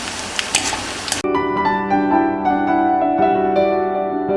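Boondi, tiny gram-flour drops for festival laddoos, crackle in hot oil with a dense, bright sizzle for about a second before the sound cuts off abruptly.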